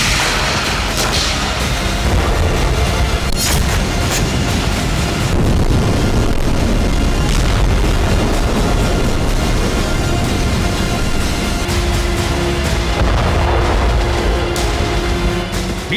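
Booming blasts from a Ukrainian suicide drone attack in Crimea, a dense, loud, continuous rumble with repeated heavy thuds and crackling bursts, wind-buffeted and constant throughout with no talk.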